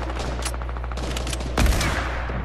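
Gunfire in the video game Fortnite, including a sniper rifle shot, a loud sharp crack amid rapid overlapping shots over a constant low game rumble.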